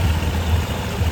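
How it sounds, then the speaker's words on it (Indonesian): A carbureted Honda Beat scooter engine runs with a steady, low, rumbling hum close by, and no voices. "Coba kita nyalakan starter."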